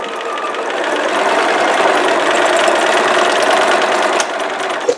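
A sewing machine stitches fabric at a fast, steady whir for several seconds, loud and close, with a brief change near the end as the thread breaks; no one speaks.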